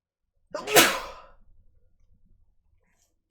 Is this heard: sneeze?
yes